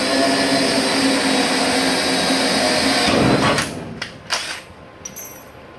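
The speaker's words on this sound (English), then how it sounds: "this is a spot weld, so I'll get it drilled out" A power drill bores out a spot weld on the kick panel of a 1966 Ford Bronco, a loud steady whine for about three seconds before cutting off into a few short bursts.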